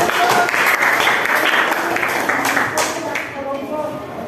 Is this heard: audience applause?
yes